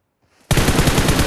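Automatic gunfire in PUBG Mobile: after a brief faint lead-in, a sudden loud, sustained burst of rapid shots begins and continues to the end.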